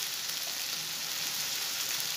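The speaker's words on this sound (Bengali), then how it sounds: "একটু পেঁয়াজগুলো একটু কষিয়ে নিয়ে যাবো" Onions and tomato sauté in a pan for tengra fish dopiaza, giving a soft, steady sizzling hiss that stays faint and even throughout, with no voices.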